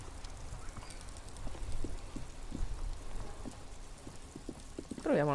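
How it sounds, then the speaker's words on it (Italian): Steady rain falls in the video game Disco Elysium, a soft, even patter with scattered tapping drops, before a voice starts speaking at the very end. "Bene, piove."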